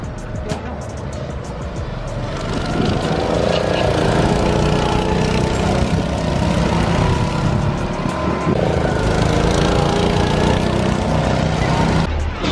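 A go-kart engine in Kütahya drones loud and steady throughout, its buzzing whine rising and falling slightly as it runs, with voices talking faintly over it.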